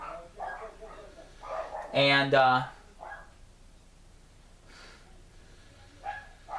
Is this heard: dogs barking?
yes